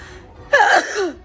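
A single sharp sneeze up close, six days after nose surgery, preceded by a quick inhaled gasp and trailing off into a short vocal exhale.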